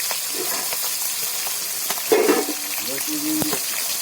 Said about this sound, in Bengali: অল্প করে কালো জিরে, আর একটু দিয়ে দেবো কালো জিরে